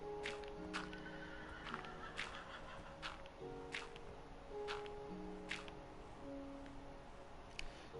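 Horse in the video game Minecraft neighing and whinnying repeatedly over about eight seconds, sharp bright calls recurring every second or so over a steady game background with faint hoof clip-clops.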